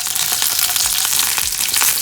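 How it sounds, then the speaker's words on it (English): Mustard seeds, curry leaves and red chilies crackle and sizzle steadily in hot oil, a loud close frying hiss with scattered pops throughout, no voices. "After adding the oil, I'm going to add these mustard seeds and the curry leaves."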